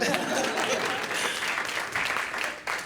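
Audience applause for a Raritan Valley chapter of the Links marking its 40th anniversary, steady dense clapping across a room that holds throughout, then thins at the very end.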